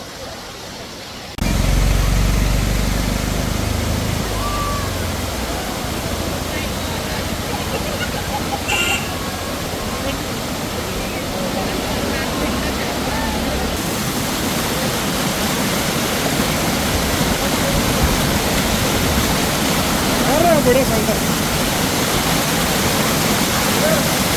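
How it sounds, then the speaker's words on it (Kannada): Amboli Ghat waterfall gives off a loud, continuous broadband roar of falling water heard up close, steady throughout with no breaks. "ಅಂಬೋಲಿ ವಾಟರ್ ಫಾಲು ಬ್ಯೂಟಿಫುಲ್ ಆಗಿದೆ"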